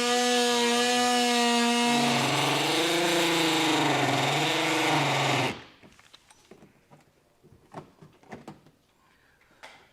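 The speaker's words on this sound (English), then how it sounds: "Now, as far as cutting, I'm using an oscillating tool or a multi-tool." An oscillating multi-tool trims plastic trim panels during a trailer hitch install on a 2023 Kia Telluride, giving a loud, steady buzzing whine for about five seconds that wavers in pitch, then stops, leaving quiet handling clatter.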